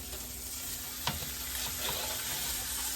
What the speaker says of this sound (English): So I've gone ahead and taken a little over a tablespoon of butter. And I'm just going to add the meat